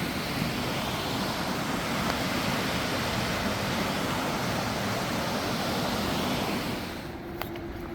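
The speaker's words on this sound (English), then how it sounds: "River's right down there, parallels the river" A river flowing beside a forest trail in Tillamook State Forest, a steady broadband rush of water that stays even and fairly loud before easing slightly at the end.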